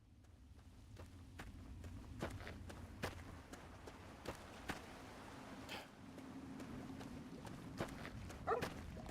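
Dogmeat, the dog companion in a Fallout wasteland game, with quick scampering paw steps and faint clicks in a steady run, quiet over a low ambient hum.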